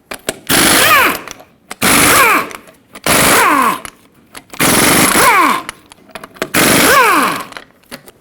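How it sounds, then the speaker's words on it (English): Impact wrench on 21mm lug nuts on a 2011-2016 Ford F-350 front wheel, five loud close bursts of whirring hammering, each about a second long, separated by short pauses. "So with a 21mm socket,"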